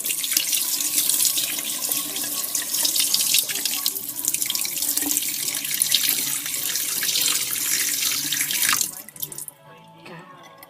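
Tap water running into a sink while pork is washed, a steady loud gushing stream that cuts off near the end, leaving faint clinks.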